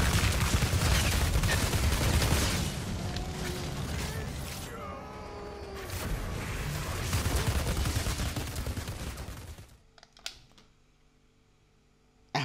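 Heavy gunfire and explosive bursts from the Outriders video game, loud and dense for about ten seconds, then dropping to near silence with a few sharp isolated shots near the end.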